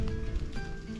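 Rain falling outdoors in cold weather, a steady soft patter of drops on surfaces with a faint tonal hum underneath, continuous and fairly quiet throughout.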